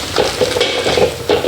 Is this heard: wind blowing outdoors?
no